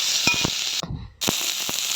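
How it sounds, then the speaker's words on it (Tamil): Ingredients sautéing lightly in a pan give a steady, close hiss of gentle frying with small crackles and pops, broken by a brief quiet pause before the sizzle resumes. "அதிலே போட்டு லைட்டாக, ரொம்ப வதக்கக்கூடாது, லைட்டாக தான் வதக்கணும்"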